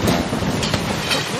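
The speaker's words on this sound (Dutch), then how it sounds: "Een beetje regen op de tent." Rain patters on a tent in a dense, continuous close rumble with soft irregular taps, and no voices are heard.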